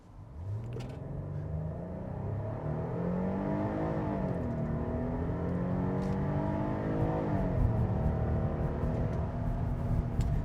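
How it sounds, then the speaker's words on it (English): A 2026 Hyundai Palisade Calligraphy accelerating hard on a 0 to 60 run, heard from inside as a loud, steady engine rumble and whir that climbs in pitch through shifts, with no talking. "Let's try another 0 to 60 run here."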